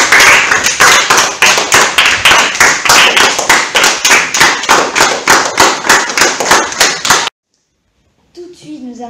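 A small audience claps for a reader at a school presentation, with loud, close, fairly steady rhythmic hand claps lasting about seven seconds before stopping abruptly, followed by a brief voice.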